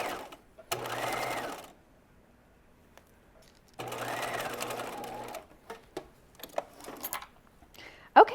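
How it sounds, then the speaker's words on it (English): Sewing machine running a long straight basting stitch through layered fabric at a pocket on cigarette pants, two steady whirring bursts of stitching separated by a pause, followed by light handling clicks and taps up close. "And I'm basting those layers together."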